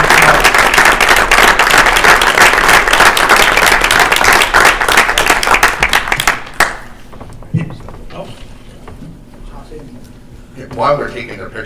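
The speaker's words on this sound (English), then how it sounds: "If you could please join me in giving all of these students a well-deserved round of applause" An audience at a school board meeting applauds award-winning students with loud, dense, sustained clapping for about six seconds, then it stops abruptly, leaving scattered thumps and faint room noise.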